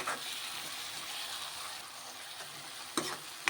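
Tomatoes and spring onions fry in a pan over medium heat for a village-style spring onion curry, giving a steady, soft sizzle with occasional stirring scrapes and a sharper clink near the end.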